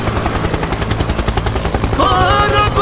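Toy helicopter sound effect with a loud, rapid chopping rotor beat that pulses steadily for a few seconds, joined near the end by a brighter whirring tone.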